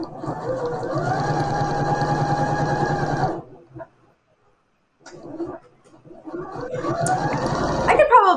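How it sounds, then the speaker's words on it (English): Sewing machine stitching foam for an iron cord wrap, running steadily nearby, stopping for a few seconds of near silence, then starting again; voices can be heard at times. "So I'm going to stitch that now."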